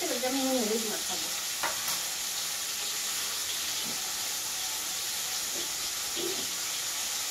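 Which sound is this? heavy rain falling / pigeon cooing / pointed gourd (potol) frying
pointed gourd (potol) frying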